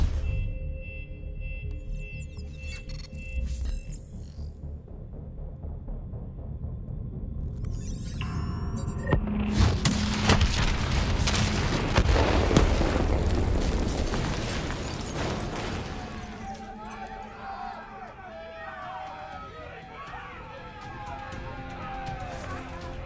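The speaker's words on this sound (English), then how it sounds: "Detonate now!" Detonation in Call of Duty: Black Ops 3, a heavy booming blast that swells into a long rumbling roar mid-clip, trailing off into crackling debris and scattered battle noise.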